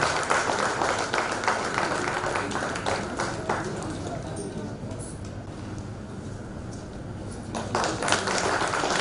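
An audience at a Hindi literary gathering claps to welcome a guest, dense steady applause that thins slightly in the middle and swells again near the end.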